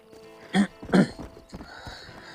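Two sharp, close coughs about half a second apart, followed by quieter throat noises, heard alone and without talk.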